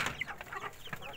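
Heritage breed chickens cluck in short, close bursts over a brief moment, a few quick calls overlapping on a farm.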